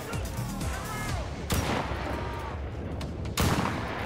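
Gunfire in the shooter game Enlisted, a dense steady rattle of distant shots and explosions throughout, with two sharper, louder cracks standing out near the middle and toward the end.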